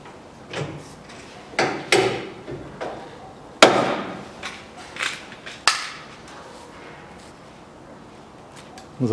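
A hand riveter sets rivets on the rear body of a 1982 Land Rover Series III, a series of sharp metallic snaps spaced a second or two apart, close by, in a quiet workshop.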